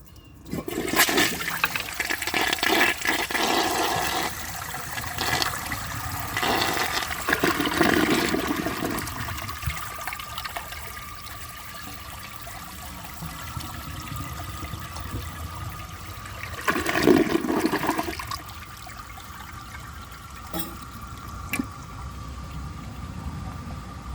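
A Glacier Bay high-efficiency toilet with a full tank flushes in a loud, close rush of water that rises and falls over several seconds, then surges again before settling into a steady refill trickle.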